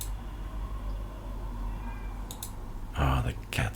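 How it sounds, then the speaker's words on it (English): A cat meows briefly twice near the end, over a steady background hum from a computer setup. "Do you hear the cat?"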